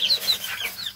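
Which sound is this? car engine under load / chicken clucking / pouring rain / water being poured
chicken clucking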